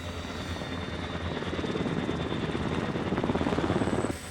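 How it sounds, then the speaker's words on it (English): Military rescue helicopter engine whine with the rapid rhythmic chop of rotor blades, loud and steady, building slightly toward the end. "You can feel the pitch in the blades. You can hear the engines."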